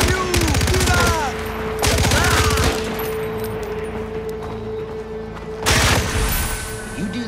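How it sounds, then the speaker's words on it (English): Rapid automatic fire from the driller gun in Far Cry 4, three loud dense bursts of repeated shots with a steady hum and quieter gaps between them. "That's the driller. One of four guns that you get in the Hurk Deluxe Pack. And drills bullets into your enemies."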